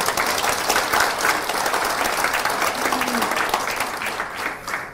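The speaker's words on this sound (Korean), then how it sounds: "예, 다시 한번 격려 박수." Audience applause at a Korean book concert, steady dense clapping from a crowd filling the whole stretch, fairly loud and close with no speech over it.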